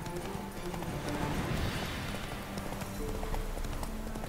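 Horse hooves clip-clop in a steady riding rhythm in The Witcher 3, a continuous galloping patter under game music and ambience, fairly close and even.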